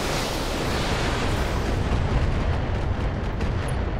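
Missile impacts in the video game Battletech land as a dense, continuous barrage of loud rumbling explosions that blur into one roaring wash of booms for the whole stretch, with no talk over them.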